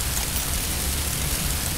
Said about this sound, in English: Now I'm keeping light rain all the way through.